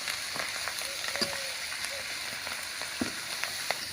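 Spices tempering in hot oil in a pan while being stirred in, a steady soft sizzle with faint scraping and small pops throughout, close and with no talking.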